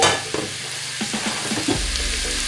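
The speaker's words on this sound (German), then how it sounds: "In die heiße Pfanne packe ich jetzt unsere Nudeln rein" Noodles dropped into a hot pan with sautéed vegetables and leftover pork give a loud, steady sizzle, with stirring scrapes and clinks of a spatula moving through the food.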